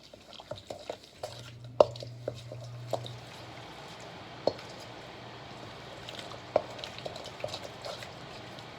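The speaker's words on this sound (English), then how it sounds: "I'm gonna mix this up real good" A spoon works through a thick spinach mushroom dip in a bowl, soft wet squelches and stirring with occasional sharp clicks against the side, fairly quiet and close.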